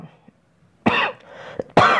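Two loud, harsh coughs close to the microphone, with a short pause between them and near silence before.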